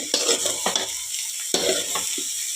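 Capsicum, carrot and cabbage are stir-fried for fried rice at home, with a steady hiss of sizzling oil broken by several scraping, clattering strokes of a spatula against the pan, close and alone.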